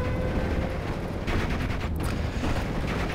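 Crossfire from Panzergrenadiers in Steel Division: Normandy 44, a World War II strategy game; dense, continuous rattling bursts of rifle and machine-gun fire with a few sharper cracks.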